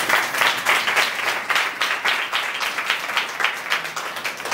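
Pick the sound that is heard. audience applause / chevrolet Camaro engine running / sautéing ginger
audience applause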